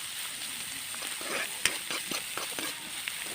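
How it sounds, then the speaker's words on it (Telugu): Chopped onions with salt sizzle and crackle steadily in hot oil, a continuous close frying hiss with occasional pops and stirring scrapes, no talking. "ఇది వేగాక మనం చిన్నగా ఇలా చాప్ చేసుకున్న ఆనియన్స్ కూడా ఇందులో వేసి కాస్త ఉప్పు వేసి మనం వీటిని ఆయిల్లో బాగా ఫ్రై చేసుకోవాలి."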